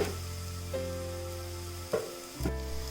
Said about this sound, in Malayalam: 1/2 ടീസ്പൂൺ ഗരം മസാലയും കൂടി ഇട്ട് ഇതൊന്ന് വഴറ്റി കൊടുക്കാം